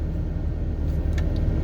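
A fire department chief's pickup truck passing on a mountain road during a wildfire, a brief low engine and tire rumble that swells slightly as it goes by.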